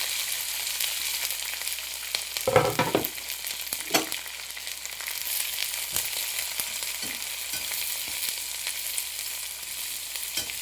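Curry leaves, thinly sliced onions and green chillies frying in a tempering pan, a steady soft hiss of hot oil with a few scraping stirs, fairly close and without speech.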